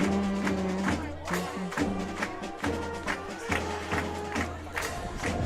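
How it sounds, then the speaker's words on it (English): A hometown crowd at an Oklahoma high school football game cheers after a touchdown, a loud sustained roar with rising shouts and swells, music tones running beneath. "Hometown crowd on their feet."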